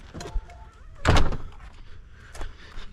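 A back door is opened to let a dog in, giving one loud thudding clunk near the middle, with a few lighter knocks and rattles before and after it.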